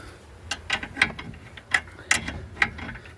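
An adjustable shifter spanner works on the rear coil spring bolts of a BF Falcon, giving a series of about seven sharp metallic clicks and ticks at an uneven rhythm over a quiet background.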